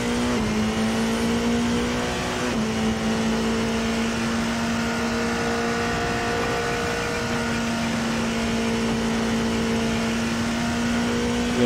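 A race car engine in a racing video game holds a steady high whine throughout, its pitch stepping briefly near the start and then climbing slowly, loud and continuous with no talk over it.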